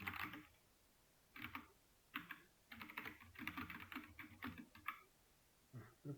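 Quiet bursts of computer keyboard typing while code is entered, in short clusters of quick clicks separated by pauses, close and faint with no talking.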